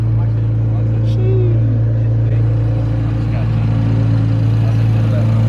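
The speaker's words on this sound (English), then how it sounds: "I'm all the way in the back and I just hear my car start." A tuned Infiniti Q50 with a VR30 engine idles or runs in a loud, steady low drone throughout, close by, with people talking over it.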